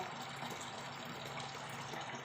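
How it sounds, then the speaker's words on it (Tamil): Water running steadily into a container for a pet fish, a soft continuous gushing pour heard close and fairly quiet, with no voices. "இவ்வளோ தண்ணி போடணும்."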